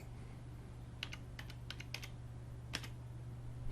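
Keys tapped on a computer keyboard while entering a zip code, a few quick bursts of clicks spread across the moment, fairly faint over a steady low electrical hum.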